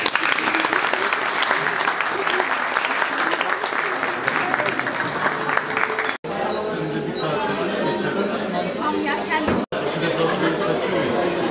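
Audience claps and cheers loudly and continuously at a youth breakfast event in Gebze, with crowd chatter mixed in and two abrupt cuts breaking the dense applause.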